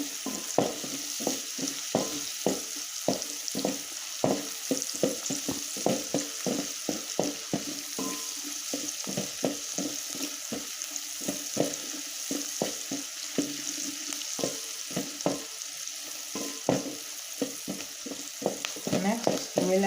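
Ingredients for spicy cabbage fried rice sizzle in a hot pan as a utensil scrapes and stirs them in quick, repeated strokes, a close and steady frying patter with no voices.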